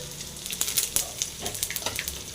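Curry leaves crackle and sputter in hot oil during tempering, a dense run of sharp pops and sizzling bursts at moderate loudness, close by, with no voices.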